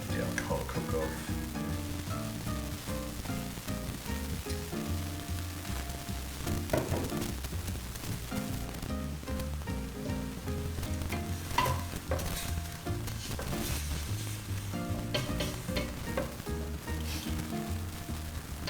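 Alcohol cooking off in a pan of lamb sauce for pici, a steady sizzle with stirring, heard under background music throughout.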